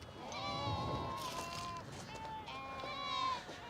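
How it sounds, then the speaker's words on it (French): A large flock of sheep bleats across the open Moroccan desert on the road to the oases, several overlapping wavering cries coming in quick bursts from moderate distance, over faint wind. "C'est un énorme troupeau de moutons."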